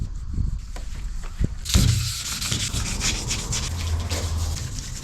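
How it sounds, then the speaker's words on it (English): Sandpaper wet sands the body of a Jeep Wrangler YJ in continuous rubbing strokes, close and fairly loud, with a few knocks at the start before the steady scrubbing takes over. "So I wet sanded the whole thing."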